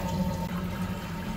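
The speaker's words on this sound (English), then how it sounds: "As soon as I hear the water stop draining, then I'll turn it off and then we'll take it apart." Rinse water draining from a Manitowoc ice machine, a steady close running-water wash with a low hum beneath it, continuous throughout with no voices.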